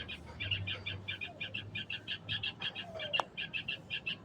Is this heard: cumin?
no